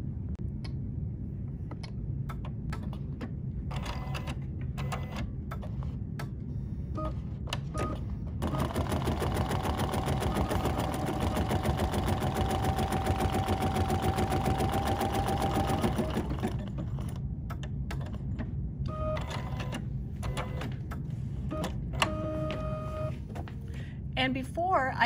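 An embroidery sewing machine stitches a background piece in a hoop with a fast, even mechanical whir lasting several seconds, framed by intermittent clicks and handling sounds before and after, with brief talk around it.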